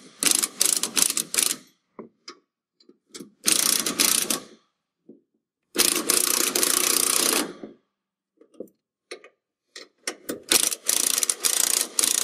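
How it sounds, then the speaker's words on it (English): A ratchet wrench tightens bolts on a coilover kit for a 2014-and-up Dodge Ram 2500/3500 truck, with several loud, close bursts of fast clicking separated by silent pauses and a few isolated clicks. "Partially tight all the bolts."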